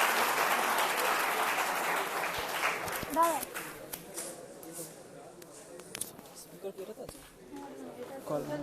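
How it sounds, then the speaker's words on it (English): An event audience claps to welcome a speaker onto the dais at an open-source tech talk. The dense applause is loud for about three seconds, then fades into scattered claps, room chatter and voices. "Let's welcome him on the dais with a huge round of applause."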